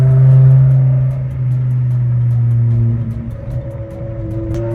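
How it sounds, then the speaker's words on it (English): A low engine rumble from a BMW E60 M5 with an upgraded exhaust settles and drops as the car slows, with faint irregular popping and burbling from the exhaust. "on decel, it definitely kind of burbles. And of course, these downshifts."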